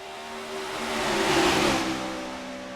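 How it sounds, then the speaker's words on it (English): Race cars accelerate at a restart in a Talladega stock-car video game race, their engine roar swelling to a loud, dense peak and then fading off, with no talking. "We're restarting on lap 29 with Tony Stewart and Sam Hornish Jr."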